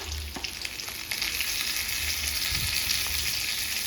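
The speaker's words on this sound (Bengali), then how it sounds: "ডিম ছেড়ে দিয়ে তার উপর থেকে একটু হলুদ আর একটু নুন ছিটিয়ে দেবো তারপরে হালকা করে ভেজে নেব লাল লাল হওয়া পর্যন্ত" An egg fries in a pan seasoned with turmeric and salt, giving a steady, dense sizzle that stays close and fairly loud throughout, with a few faint clinks and no voices.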